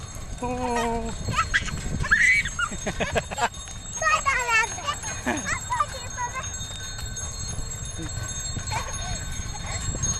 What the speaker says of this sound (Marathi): पाहू बैलगाडी जात आहे हळूहळू